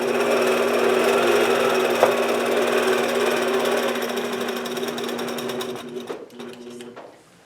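A sewing machine doing free-motion quilting against a ruler hums in a steady, close drone, then slows and stops near the end, with no one speaking.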